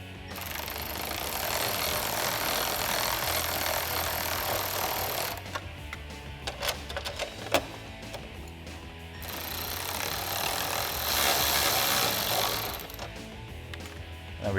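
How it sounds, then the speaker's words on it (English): Bolts tightened with a 10mm socket and wrench on Jeep Wrangler JL rocker armor side step bars: long runs of rapid ratcheting broken by a pause with scattered metallic clicks, close and loud. "And then we can loosely tighten those down with a 10mm socket and a 10mm wrench."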